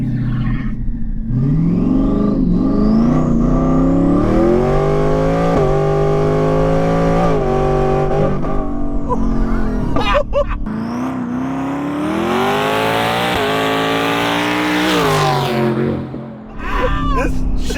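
A twin-turbo Ford Raptor R truck accelerates hard with a loud, sustained engine roar that climbs steadily in pitch through several gear changes, heard from inside and close.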